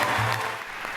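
A crowd at the Cannes Film Festival applauds and cheers as the Palme d'Or goes to Bong Joon-ho's Parasite, a brief burst of dense clapping with a low hum beneath.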